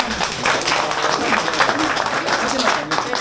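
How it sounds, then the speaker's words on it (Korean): Lecture audience at a golf academy's CEO special session gives a dense, steady round of applause, loud and continuous throughout, with voices mixed in. "마지막으로 박수 한번 주고"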